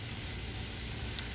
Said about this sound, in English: Hear that sizzle? That is a sizzle.